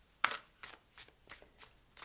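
Six crisp riffling bursts of cards being shuffled, evenly spaced and close up, in an otherwise quiet room.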